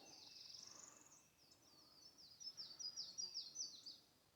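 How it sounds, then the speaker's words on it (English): Faint birds chirp near the Old Sublimity Bridge in Kentucky: a soft run of high, quick repeated tweets that grows into a rhythmic burst of calls, distant and quiet over a hushed background. "Hear the birds chirping."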